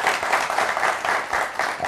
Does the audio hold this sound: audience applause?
yes